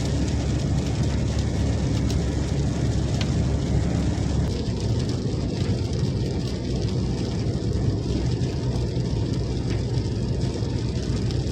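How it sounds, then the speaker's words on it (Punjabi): Heavy rain falls on a moving car, making a dense, unbroken wash of noise that stays loud and even throughout. "ਜ਼ਿਆਦਾ ਮੀਂਹ ਇੱਧਰ ਆ"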